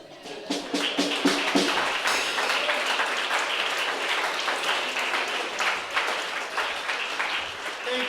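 An audience applauds at a comedy roast, dense steady clapping that swells quickly and carries on at moderate level, with voices calling out beneath it.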